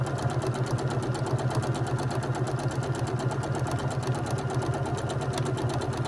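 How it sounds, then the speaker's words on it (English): Sewing machine chain piecing a run of quilt block pieces, running nonstop with a fast, even needle rhythm and a constant motor hum close by. "I'm just going to chain piece them all."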